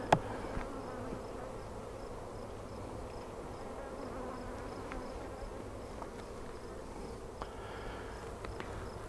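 Bees buzzing around an open beehive during a queen-rearing check, a steady, even hum filling the air with occasional faint clicks, no voices.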